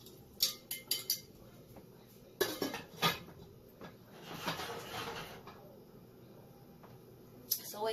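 Cookware and a pot lid clatter on a stovetop while mulled wine is set to cook on low, a few sharp metallic clinks and knocks in quick bursts, then softer shuffling handling with some faint talk nearby.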